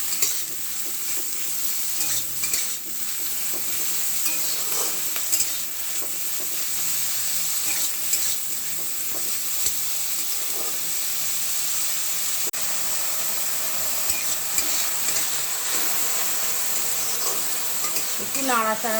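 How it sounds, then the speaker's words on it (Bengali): Chopped pointed gourd and ridge gourd fry in a pan with a steady, even sizzle and hiss lasting the whole stretch, with occasional faint clicks of stirring. "ঝিঙে দিয়ে দিচ্ছি। এটা আমি একটু ভালো করে ভেজে নেব।"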